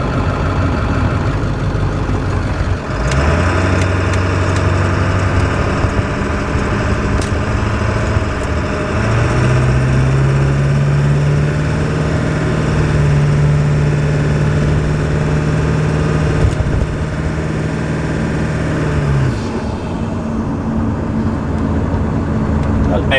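Ford 7.3 Powerstroke diesel engine idling close by, a steady low rumble that holds through the stretch, with a lower droning tone rising partway through and fading near the end; voices talk over it at points.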